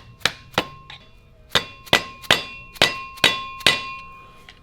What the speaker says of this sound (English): It definitely took a few taps of a flathead, a screwdriver, and dead blow.